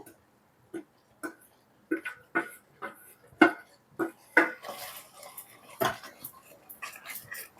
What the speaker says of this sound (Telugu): మనం తురుముకున్న కొబ్బరిని వేసుకొని మిక్స్ చేసుకుందాం.